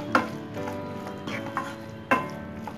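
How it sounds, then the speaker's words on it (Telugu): A spoon stirs fenugreek leaf and egg masala curry in a pan after salt is added, giving a few distinct clacks and scrapes against a low steady sizzle, close up. "ఇంకొకసారి mix చేసేసుకుందాం"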